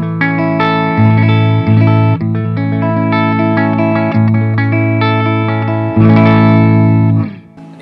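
Thick, full electric guitar tone from Tom Holmes 455/450 humbuckers wired in series, strummed chords ringing loud and sustained with a slight effect shimmer, then fading out.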